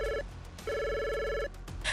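A mobile phone ringing after a number is dialed, two long electronic rings separated by a short gap, steady and fairly loud, with a brief noisy burst at the end.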